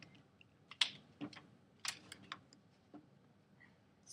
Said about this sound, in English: when I type all that in my calculator